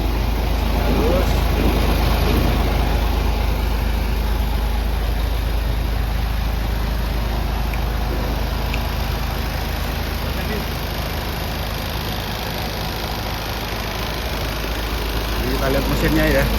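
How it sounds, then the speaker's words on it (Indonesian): Isuzu Giga FVZ 34 P 6x4 truck from 2017 with a 285 PS common-rail diesel engine idling smoothly, a steady low rumble throughout with faint background noise. "Kita lihat mesinnya sangat halus sekali ya teman-teman."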